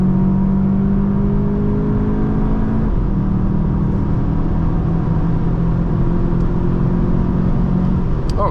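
A 2025 VW Jetta GLI pulls hard from 60 to 100 on the Autobahn, its engine note climbing steadily as a loud, continuous rising drone with road rumble, up close from inside the cabin.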